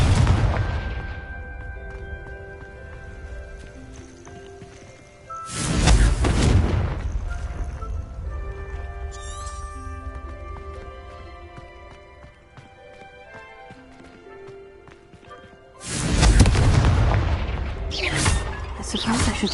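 Confringo spell explosions in the Hogwarts Legacy video game, two loud booming blasts several seconds apart, each with a broad crashing tail, set against soft game music.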